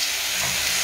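Garden peas tipped into a hot pan set off a steady, loud broadband hiss and sizzle that runs unbroken throughout.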